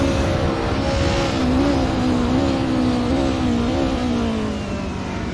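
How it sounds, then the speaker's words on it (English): A 90s BMW touring car in a racing sim accelerates hard down a straight, its engine droning loud and close as the pitch climbs through the gears, with brief dips at each shift. "And look how quick that BMW is in a straight line."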